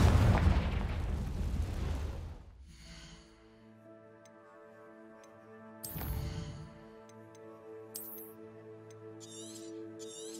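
A Confringo blasting curse goes off in Hogwarts Legacy inside an Acromantula cave, opening with a loud, broad fiery blast that fades into ringing tones. A second burst follows midway, and small clicks trail after it, with no talk.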